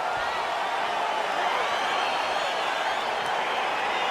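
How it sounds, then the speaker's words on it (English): A dense, steady crowd roar fills a UFC arena as a fight gets underway, a constant wash of distant cheering with no clear breaks. "crowd getting excited as this fight gets underway"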